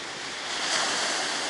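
Black Sea waves wash onto the shore on a near-freezing late-January day, a soft swelling surge of surf mixed with wind rushing across the microphone.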